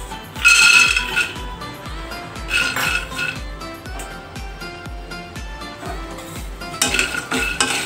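Peanuts dry-roast in a pan for sesame ladoos while being stirred, giving a close, rhythmic run of clinks, scrapes and rattles against the metal throughout.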